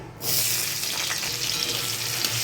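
Small chopped potatoes dropped into hot oil with whole dried chili and cinnamon tempering, starting a sudden steady sizzle that stays loud and close throughout.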